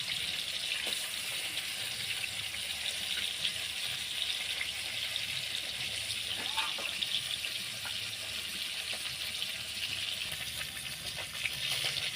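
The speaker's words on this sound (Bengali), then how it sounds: "মাছটা আমার ভাজা হয়ে গেছে, হালকা করে ভেজেছি মাছটাকে" Koi fish fry lightly in mustard oil in a pan, giving a steady, even sizzle and hiss that holds at a moderate level throughout, with small crackles scattered through it.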